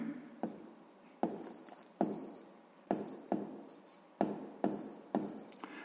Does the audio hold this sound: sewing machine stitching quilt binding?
no